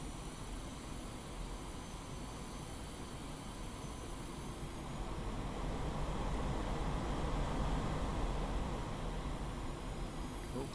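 A jet aircraft taxiing in the Digital Combat Simulator flight game gives a steady, even engine roar with a high whine on top, swelling slightly louder midway and holding constant throughout.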